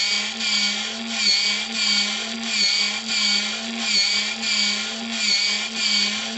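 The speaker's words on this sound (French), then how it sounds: "Je sais que la pompe est pas très rapide, mais je sais qu'elle fonctionne." A small self-priming servo pump in a model tugboat runs steadily, pumping water with a constant motor whine. The sound swells and dips at a regular pulse of about one beat per second.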